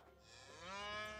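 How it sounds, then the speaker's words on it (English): A cow moos once in the video game New World: Aeternum, a single drawn-out bovine low that swells louder toward the end, heard clearly with no talking. "That's a cow."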